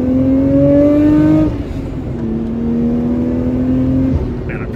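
Engine of a USA-legal Nissan Skyline R34 GT-R pulling hard under heavy throttle from inside the car, a loud rising tone that drops back briefly at a shift, then climbs again steadily.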